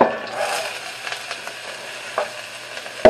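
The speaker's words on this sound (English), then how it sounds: "The next step is going to be sweating all of that down." A mirepoix of onions, celery and carrots sweats in a soup pot for broccoli and beer cheese soup, giving a steady soft sizzle with a few light stirring scrapes. The sound is close and there is no talk.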